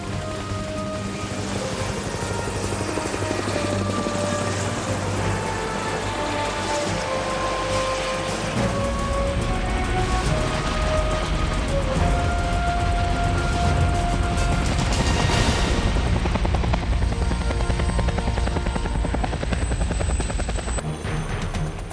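Helicopter in flight, a steady loud rotor and engine roar that fills the whole stretch without pause, with a faint tonal whine shifting through it.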